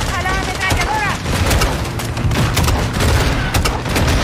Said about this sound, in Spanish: ¡A la ametralladora!